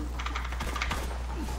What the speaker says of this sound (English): Can hear my keyboard over your mic.